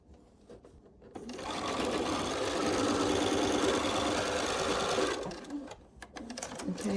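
Sewing machine stitching quilt fabric pieces for an 8-point star block: a short run-up, then about four seconds of fast, steady whirring and rattling stitching, followed by light handling clicks as it stops.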